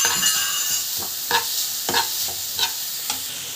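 Carrots sauté in a pan with a constant close sizzle, broken by several sharp scrapes and clacks of a spoon stirring against the pan.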